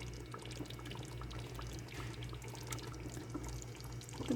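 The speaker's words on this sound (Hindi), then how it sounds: "फिर हम इसमें पानी ऐड करेंगे शोरबा बनाने के लिए।" Water poured into a pot of cooked beef trotters to start a broth, a continuous, quiet stream splashing and gurgling steadily throughout with no voices.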